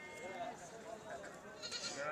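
Goats bleat at a livestock market, several wavering cries over a busy background of voices and crowd noise, fairly faint and close together.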